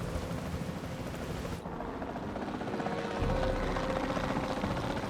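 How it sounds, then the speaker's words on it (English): A helicopter flies in the video game Jurassic World Evolution 2, its engine a steady rotor drone and rumble that holds throughout and swells slightly louder toward the end. "I kind of need the chopper to go a little faster when I'm shooting."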